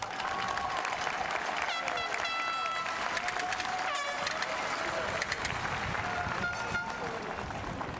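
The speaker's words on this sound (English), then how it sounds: "let's give a round of applause" Sustained applause from a large crowd at a high school graduation ceremony, dense clapping with scattered cheers and whistles throughout.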